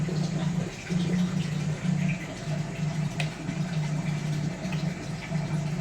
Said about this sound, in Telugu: చూడండి మోటార్ ఆన్ చేసేసుకుంది ట్యాంకిని ఫిల్ చేయడం అనేది జరుగుతుంది